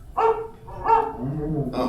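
A dog barks twice in quick succession, close and fairly loud, then gives a longer, lower growling whine.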